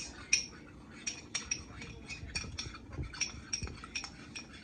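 A spoon clinks repeatedly against a bowl as sauce is quickly stirred, several light metallic taps in an irregular rhythm over a soft background, close and fairly quiet.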